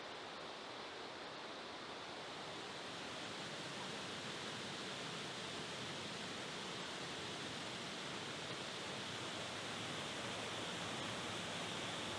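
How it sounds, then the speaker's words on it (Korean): Steady rushing water roars continuously throughout from a two-tier waterfall on Bangtaesan mountain in winter, a broad, even wash of falling water with no pauses and no voices. "방태산에서 유명한 이단 폭포를 만나러 내려가 보았다."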